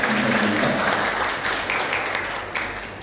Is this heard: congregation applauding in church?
yes